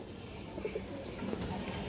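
A Masla pigeon coos softly at close range, a brief low murmuring call over a quiet, hissy background with no voices.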